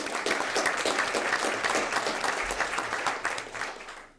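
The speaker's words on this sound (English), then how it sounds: "So let's give Nathan a round of applause." Room full of people applauding a student athlete at a school board of education meeting, steady dense clapping throughout, fading slightly at the end with no talk over it.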